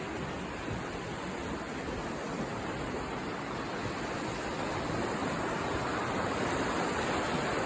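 Water pours over the weir on the Lagan River at Dromore, a constant broad rushing roar that holds steady and fairly loud the whole time, with no other sounds on top.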